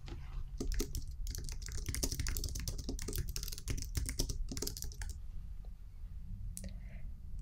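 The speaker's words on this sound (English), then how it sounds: "Type in a file name under Save As." Rapid, close keystrokes clatter on a computer keyboard as a file name is typed, a dense burst of clicks for about five seconds before trailing off into a few scattered taps and quiet room hiss.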